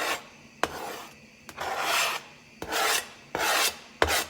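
A knife blade scrapes chopped thyme and oregano off a cutting board for chicken noodle soup, in about five separate rasping strokes with short pauses between, close and clear with no talk.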